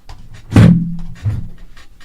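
A chair gives a sudden loud creak: a sharp scrape followed by a drawn-out groaning squeak, then a softer second creak a moment later, heard nearby in a quiet room with no one speaking.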